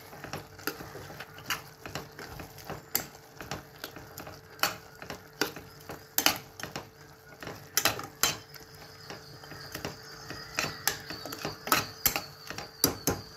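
A spoon stirs and scrapes coriander powder being sautéed in a pot of mutton curry, producing irregular clinks and metallic scrapes at a moderate distance, with no talking.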